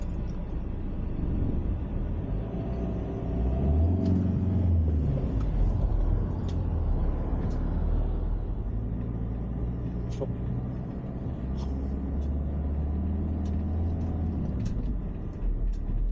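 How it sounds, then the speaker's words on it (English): A 4.5 ton motorhome driving off-road on a slippery track, with a continuous low engine rumble, shifting drone and scattered rattles and knocks, close and steady, with faint voices at times. "Bit of off-road in the van here"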